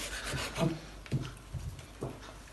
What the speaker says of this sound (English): And then just trim the skin off the mangoes.